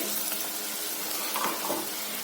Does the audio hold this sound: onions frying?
yes